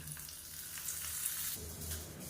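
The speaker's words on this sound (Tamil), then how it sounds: "இப்போ இதில் கடுகு வரமிளகா கருவேப்பிலை பெருங்காயம் போட்டு தாளிச்சதை இதில் சேர்த்துக்கலாம்" A tempering of mustard seeds, dried red chillies, curry leaves and asafoetida poured into sesame chutney gives a brief, faint, hissing sizzle that fades quickly, with no voices.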